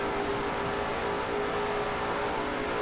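A Dodge Challenger race car held at nearly full throttle through a turn at an NRSL Mello Yello Series race, producing a steady, droning engine roar with no pauses.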